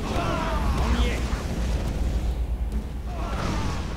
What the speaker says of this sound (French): les dégâts, les explosions se propagent aux unités qui ont été touchées